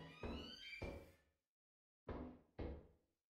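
A door in the Lethal Company video game sounds as four heavy, hollow thuds, close and loud: two about half a second apart, a silent gap, then two more.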